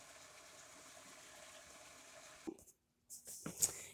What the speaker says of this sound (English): So I am going to add the stir fry sauce at this time